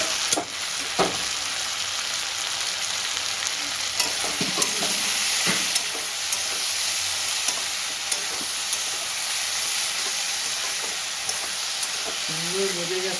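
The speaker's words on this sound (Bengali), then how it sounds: "এবার আমি সুন্দর করে ভেজে নেব।" Fish frying in a pan with potato and eggplant nearby: a loud, steady hiss of oil crackles on throughout, with occasional sharp clicks of a utensil against the pan.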